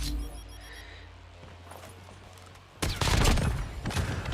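A sudden burst of rapid gunfire from Call of Duty: Mobile kicks in after a quiet stretch, loud and dense with crackling shots of game weapon fire.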